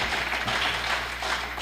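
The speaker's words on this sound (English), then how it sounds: "So let's give them a round of applause, please." Applause from families and guests at a career and technical education and military signing ceremony celebrating students, a dense steady wash of clapping across the whole stretch with no voices on top.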